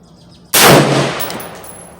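A single loud, close rifle shot from an LFA LR precision rifle fired at a 100-yard range, a sharp crack followed by a long, slowly fading echo.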